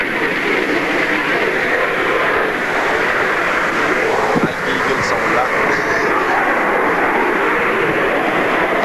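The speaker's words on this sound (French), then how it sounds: "vous avez un avion en réaction qui pourrait devenir éventuellement, on ne sait pas, mais peut-être un avion équipant les troupes d'aviation suisses" A jet aircraft roars past at a 1988 air show in Yverdon, a steady, broad, loud engine rush that fills the whole stretch, with a commentator talking over it.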